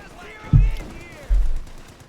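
Machine gun fire in the World War II strategy game Company of Heroes 2. Two short, heavy bursts land about a second apart over a low rumbling battlefield background.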